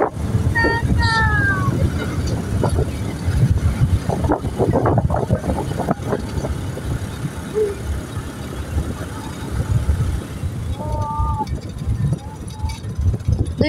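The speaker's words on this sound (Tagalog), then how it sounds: "Sa sobrang lakas ng hangin." Strong wind buffeting the microphone during an outdoor trip to a farm, a steady rumbling roar with gusts, heard under people talking.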